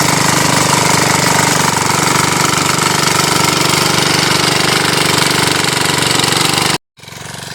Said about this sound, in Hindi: आप देख सकते हो हमारी ज़मीन में ट्रैक्टर लग चुका है